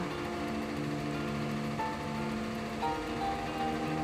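Steady rain falls during a school break, a dense continuous hiss of drops on a surface with a faint tonal hum beneath it, no voices.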